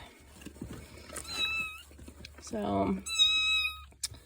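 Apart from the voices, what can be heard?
barn cats meowing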